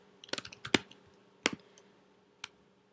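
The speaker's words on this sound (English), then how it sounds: "So whatever your foreign fiance's name is, you would just type this here." Several quick keystrokes on a computer keyboard while a name is typed into a form, a short burst of clicks followed by two isolated taps, close and crisp with no talking.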